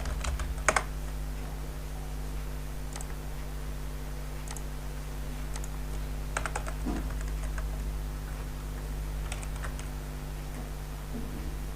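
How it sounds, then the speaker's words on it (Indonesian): Scattered keystrokes on a computer keyboard while setting up a mail server, a few isolated clicks and short clusters sounding faintly over a steady low electrical hum, no voices. "kita ketik notepad"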